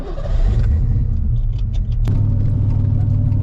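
A Mustang's engine rumbles close and loud, a deep steady idle with a slight rise in revs partway through.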